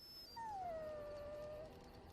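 Dog whimpering in the video game Dragon Age Origins, one thin high drawn-out whine that slides downward and fades, quiet and alone.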